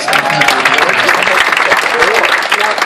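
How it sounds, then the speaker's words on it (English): An audience applauds a couple on their upcoming 40th anniversary at a game show, a loud, dense patter of clapping with voices and cheers mixed in throughout. "Let's give them a round of applause"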